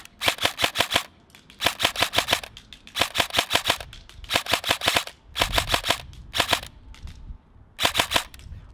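A Lancer Tactical Warlord M4 airsoft rifle fires close and loud in repeated clusters of rapid double and triple taps, each short group of sharp cracks separated by brief pauses.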